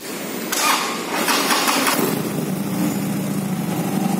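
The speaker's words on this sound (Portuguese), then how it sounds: "Essa moto, quando liga, a manete ela começa a vibrar." A heavily vibrating Royal Enfield motorcycle engine turns over and catches, then settles into a steady, rumbling idle close by.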